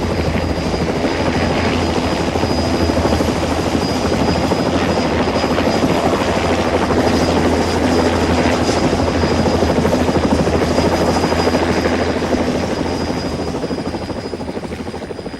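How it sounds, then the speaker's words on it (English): A helicopter flies on the Australian east coast, its loud, steady rotor drone close by and constant throughout, fading slightly at the end with no talking. "Helicopters are really tremendous things that can get you into all sorts of places."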